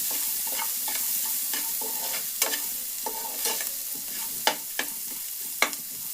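Sliced onions sizzling steadily in a hot pan after a pinch of salt, with a continuous frying hiss broken by the scrapes and knocks of a stirring spoon, close and without talk.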